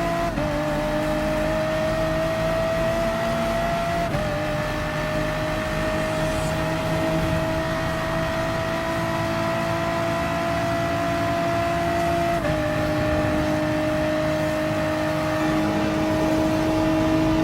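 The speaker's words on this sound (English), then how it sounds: "let's go and beat these two BMW M6 to go for the win" A GT3 race car engine in Gran Turismo Sport holds a steady, loud drone at near-constant pitch, with brief dips around gear changes, during a race against BMW M6 cars.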